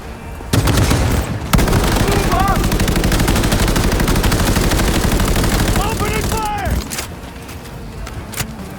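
Rapid bursts of gunfire from the video game Cyberpunk 2077 fill the scene, loud and continuous with dense automatic fire and booming shots, while voices shout over the battle.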